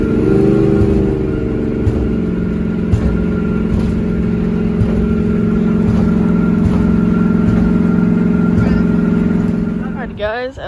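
El Toro, a car on the road to a hotel, gives a loud, steady engine drone with a low hum and road rumble that holds constant, rising briefly near the end.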